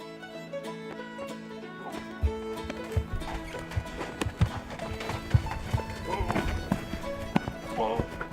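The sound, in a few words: horse hauling a bison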